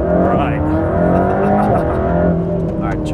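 An AMG GT3 race car powering out of a corner, its engine note loud and close, climbing through rising revs with a shift in the middle, under steady talk.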